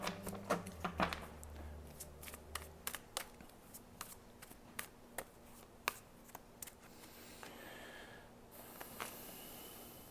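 Quiet, intermittent snaps and riffles of playing cards being shuffled, irregular bursts spread across the clip with soft room noise between.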